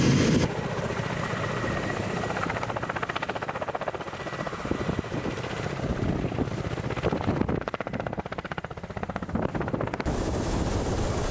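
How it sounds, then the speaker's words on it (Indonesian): Ka-52 Alligator attack helicopter flying, a loud, continuous rotor thrum with fast blade chop that fills the whole stretch, with bursts of rattling gunfire mixed in and no talk. "KA-52 Alligator menjadi salah satu helikopter tempur yang paling dihormati dan ditakuti di dunia."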